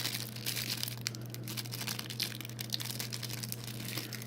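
Plastic wrapping on a bundle of Pokemon trading cards from a 2016 World Championship deck is pulled and crumpled, quiet close-up crinkling with small crackles and tearing bits over a faint steady hum.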